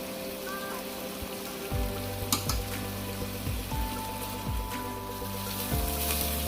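Chicken seasoned with salt and pepper browns in a pan, giving a constant hissing sizzle like light rain, with occasional faint clinks over low background music.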